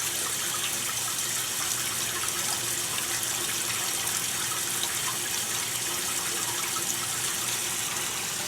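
Steady, rushing water pours into a container while unwinterizing, a loud continuous gush with a constant hiss and no voices throughout.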